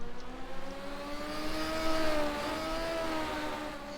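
Legends cars race in the closing laps of a 25-lap final on the Hednesford Raceway oval, a steady engine drone whose pitch climbs and sweeps, with no talk over it.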